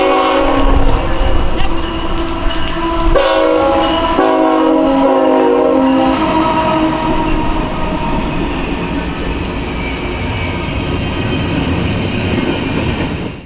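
A freight train's horn sounds loud and close in a rhythmic shave-and-a-haircut salute, several sharp blasts in a row, then the rumble and clatter of passing railcars carries on to the end.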